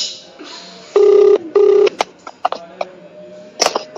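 A telephone rings twice in steady electronic bursts during a prank call, followed by clicks, taps and handling noises close to the phone.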